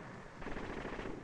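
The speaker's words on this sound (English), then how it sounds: "Tank supporting fire, quickly and accurately applied, will save casualties in the infantry." Dense, continuous rattle of tank and machine gun supporting fire for infantry clearing buildings, loud and unbroken with no voices over it.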